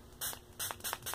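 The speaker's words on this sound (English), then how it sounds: "I feel like I should spray it more." A spray bottle hisses water onto a Shopkins bead toy in four short, quiet squirts spaced evenly, close up with no talk.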